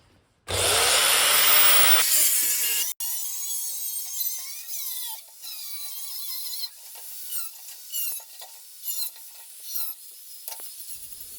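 Leftover metal pieces from an earlier build cut with a power tool to make a reservoir mount: a loud, close burst of grinding-cutting, then softer intermittent scraping and clanking as the work continues.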